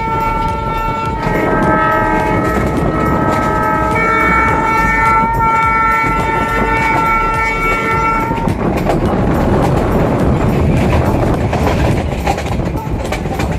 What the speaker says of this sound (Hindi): हमारी ट्रेन की स्पीड लगभग 25-30 निर्धारित है, लेकिन ये चल रही है अभी 46-50 तक जा रही है